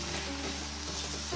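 Onions with salt fry in a pan, a loud, close, continuous sizzle with soft stirring scrapes, no voices.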